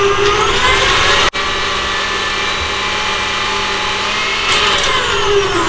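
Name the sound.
electric mixer whipping coconut cream at high speed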